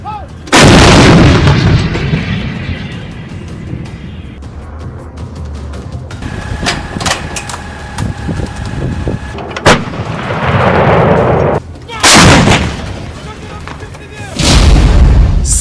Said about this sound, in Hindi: फ्रेंच तोप सीजर